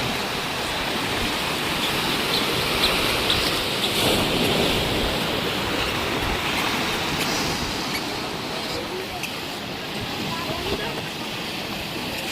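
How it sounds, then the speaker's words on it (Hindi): Ocean waves crash against rocks on a Goa beach, giving a continuous loud, rushing roar of surf with no clear breaks between the breakers. "देखो केते जोरे पानी बाड़े"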